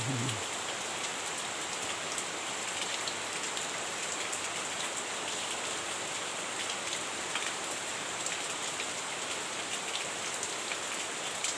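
Steady rain pours down onto a surface in a dense, even hiss of countless drops that stays constant and fairly loud from start to finish, with no voices.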